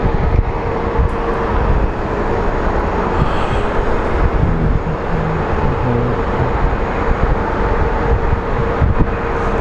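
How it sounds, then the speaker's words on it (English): A Southwest airliner taxiing at Phoenix Sky Harbor airport makes a loud, steady jet-engine roar and rumble with wind buffeting the microphone, continuous throughout. "And then we have our San Diego bound Southwest flight taxiing."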